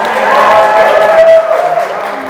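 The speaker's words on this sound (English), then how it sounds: "Everyone, big round of applause." Wedding ceremony guests in Austin, Texas cheer and applaud loudly, a crowd roar with whoops and clapping that swells and then slowly fades, while a voice rises briefly above it.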